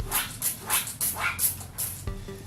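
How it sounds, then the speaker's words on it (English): A pet dog barks in a home, a series of five or six sharp barks spaced in a loose rhythm at close range, followed by a brief clatter at the end, with no talking. "I got distracted by my dog"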